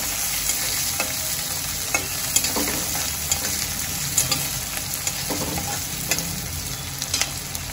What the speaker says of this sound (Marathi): आणि मिरची घालून घेते। या सर्वांना मी तेलामध्ये चांगलं परतून घेते।